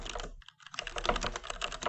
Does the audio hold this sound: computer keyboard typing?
yes